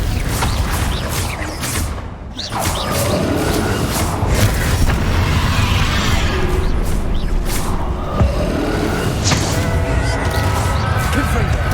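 Spell explosions in the video game Hogwarts Legacy, with repeated loud booming blasts and crashing impacts in fast succession throughout, layered with dense battle noise and no pauses.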